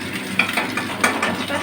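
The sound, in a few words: fish frying in oil in a wok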